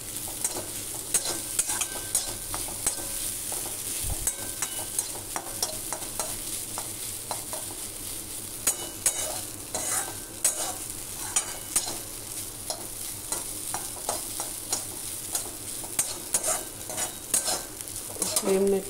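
Egg fried rice stirred in a hot pan over high flame, a steady sizzle of frying under repeated scraping stirs and occasional clinks of a utensil against the pan, close and continuous with no talk.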